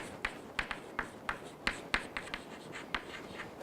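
Marker or chalk strokes scratch across a board in a classroom lecture, a string of quick irregular taps and short scrapes, close and fairly quiet with no talking.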